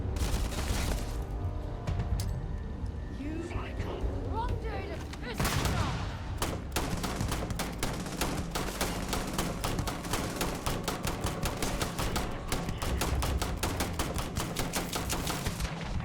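Rapid video-game gunfire in Starfield, sharp repeated shots in fast bursts over a continuous roar of battle, near and dense, with occasional talk underneath.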